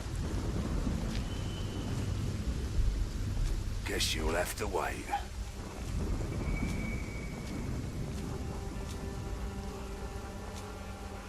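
Rain falls steadily with low rumbles of thunder in the medieval adventure game The Pillars of the Earth, a constant wash that runs under a brief spoken line midway.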